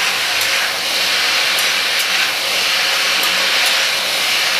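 Pieces of ash gourd fry with wallago fish in a pan over a high gas flame, giving a loud, steady, continuous sizzling hiss that fills the whole stretch.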